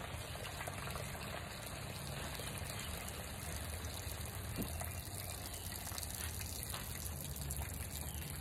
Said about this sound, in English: You see all the water coming out the pipe?